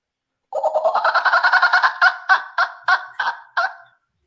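A person imitates a kookaburra's laughing call, a rapid run of loud, close, cackling hoots that slows into a handful of separate spaced bursts before stopping.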